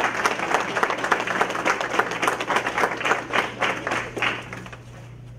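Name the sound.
applause for teachers at board meeting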